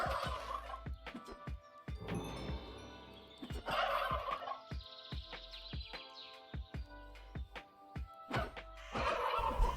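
Turkeys in a Minecraft survival modpack let out repeated rattling gobbles, close and clear, with short chirps and clicks between the calls and no voices.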